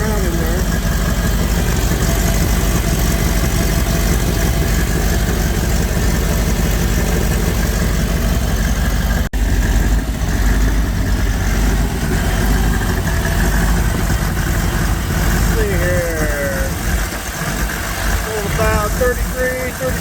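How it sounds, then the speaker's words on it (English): Truck engine idling roughly and running rich with black smoke, a steady loud low rumble throughout with uneven lumpy firing, alone with no talk. "the way the engine's just flopping around in there."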